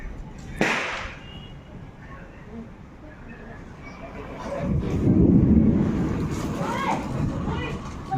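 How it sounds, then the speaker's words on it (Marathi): A sharp crack of a Diwali firecracker bursts once early on, followed by a rumbling boom, with wind and faint voices in the background. "दिवाळीचे फटाके दिवाळीच्या पहिल्यात फुटायला लागल्यात"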